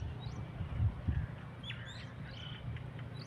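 Small birds chirp and call briefly from the distance along a freshwater fishing route, sparse high tweets over a low rumbling outdoor background.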